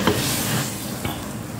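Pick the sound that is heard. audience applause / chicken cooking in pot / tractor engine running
chicken cooking in pot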